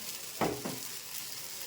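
Millet paniyaram sizzle in a pan, a soft continuous frying hiss with one or two brief scraping stirs or turns, close and alone.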